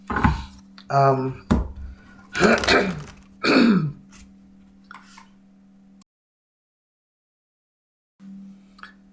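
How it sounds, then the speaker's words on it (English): Several rough, close throat-clearing sounds in quick bursts, followed by a silent gap and a low hum, with a voice murmuring briefly. "Sorry, just spent the last couple minutes trying to clear my throat here."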